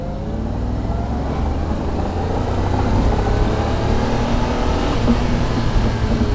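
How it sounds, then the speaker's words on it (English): Jaguar E-Type V12 engine pulling at full throttle from a 750 RPM idle, a loud, steady, smooth rising roar with dense harmonic layers and no talk over it. "Back down to 750 RPM. Okay, going to floor the throttle now."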